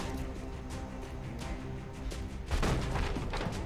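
Soldiers fire in the turn-based tactics game XCOM Long War, a few dull gunshot bursts in a steady layer of game sound, with a heavier report near the end.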